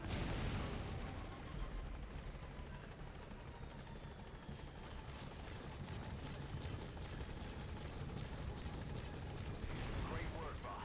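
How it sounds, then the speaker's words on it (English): A support helicopter from Metal Gear Solid V: The Phantom Pain arrives with a loud, continuous rotor roar and a rumbling low drone that stays steady for the whole stretch, dense and close with no pauses. "Support helicopter has arrived."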